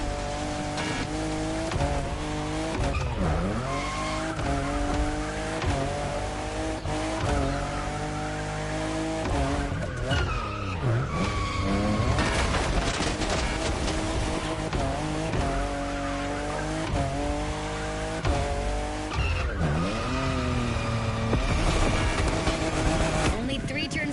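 A fifth-generation Toyota Supra races in a video game, its engine rising and falling through gear changes while tires squeal and skid through turns, loud and continuous throughout.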